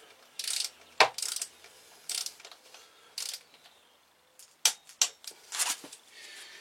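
Torque wrench tightening the front wheel bolts on a BMW R1200RT LC motorcycle, heard as a series of quiet, close ratcheting clicks in short bursts with brief pauses between them, ending in a few sharper clicks.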